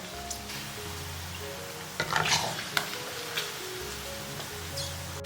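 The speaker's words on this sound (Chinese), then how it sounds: "现在呢，猪油是炸了15分钟的状态，已经炸出来很多油啦。" Chunks of pork fat frying in hot oil to render lard, a quiet, even crackle and bubbling with a few brief scrapes and clinks of a utensil in the pan.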